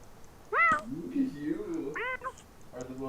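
A restless pet cat meows twice up close, a short rising cry and then a second, while someone talks over and between the calls.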